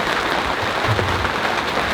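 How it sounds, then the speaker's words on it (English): Rain patters steadily on the roof of a sailboat at sea at night, a dense even hiss of drops with no voices. "You can hear the pitter-patter of the rain on the roof."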